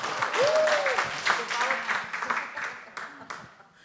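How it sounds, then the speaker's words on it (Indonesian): Applause from an audience at an education-themed church gathering in Indonesia, moderately loud and dense at first, then thinning out with scattered claps, with faint voices mixed in. "Tepuk tangan untuk PAUD."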